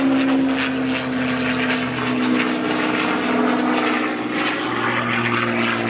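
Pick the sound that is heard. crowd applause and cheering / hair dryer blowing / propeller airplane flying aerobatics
propeller airplane flying aerobatics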